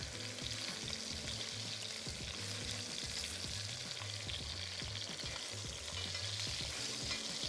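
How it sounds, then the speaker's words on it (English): Short ribs searing in a hot Le Creuset Dutch oven with a light sand interior give a constant, dense sizzle and crackle, close and even throughout, with a low rumbling hum beneath and no voices. "searing sound means that the pan is nice and hot and it's gonna ensure that we get a nice crust on those ribs"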